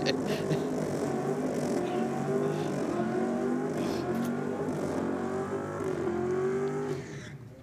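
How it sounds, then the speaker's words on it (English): Race cars perform strong burnouts at a speedway, engines roaring and revving continuously at high pitch, fairly distant and steady before fading at the end, with no talk. "there are strong burnouts being performed in front of us right now"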